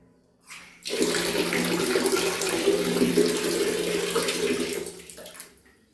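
Water gushes from the tap of a newly fitted Venus 3-litre water heater, a steady, loud, close rush that starts abruptly and runs for about four seconds before cutting off, with no talking.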